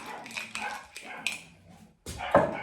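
Several dogs keep barking indoors in a kitchen where tahini dressing is being prepared, a burst of barks near and fairly loud with no talk over them.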